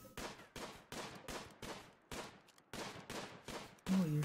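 Gunfire in Rimworld comes as a regular series of about nine sharp bursts, each followed by a short decaying tail, evenly spaced and fairly faint, alone without talk.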